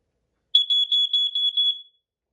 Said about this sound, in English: Now we're going to go ahead and demonstrate the both ways to test this alarm.